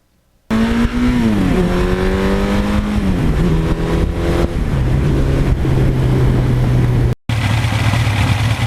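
A 1982 Suzuki GS1100E motorcycle engine with 74,000 miles, revving up and settling repeatedly, loud and close, its pitch rising and falling through several throttle blips before holding a steady idle-like drone, briefly cut by a gap, with no speech.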